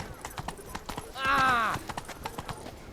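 Horse hooves clip-clopping steadily in The Witcher 3, with a horse's whinny rising in the middle amid crowd chatter and a voice in the background.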